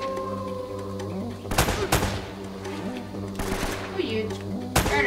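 Gunfire in Uncharted: Drake's Fortune comes as a few short, loud bursts of rapid shots over sustained tonal game music, with quieter stretches between the volleys.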